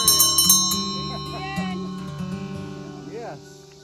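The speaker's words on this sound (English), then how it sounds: "we've got a little bell that we get to ring, and there it is" A small bell rung at the end of the Katy Trail on a long bicycle trip, giving several close, bright strikes at the start that ring on and fade under voices talking.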